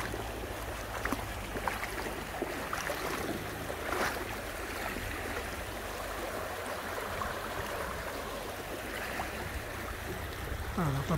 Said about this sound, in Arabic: النهر جريانه قوي بصراحة.